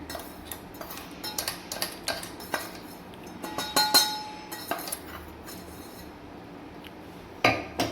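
Lassi masala spice mix is tipped from a mixer-grinder jug into a bowl, giving scattered light clinks and ticks of a spoon against steel and glass, close and fairly soft, with a few sharper knocks and no talk.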